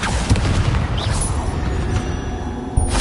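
A Bombarda spell explodes in Hogwarts Legacy, a loud booming blast with a dense low rumble that holds steady for about three seconds, followed by a second sharp hit near the end.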